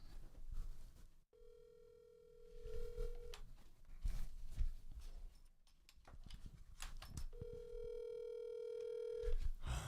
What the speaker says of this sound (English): We're gonna get him on the phone right now.